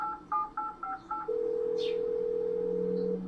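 A phone in the Cat President video game plays five short dialing tones in quick succession, then a long steady ringback tone that lasts about two seconds, with a faint chirp over it.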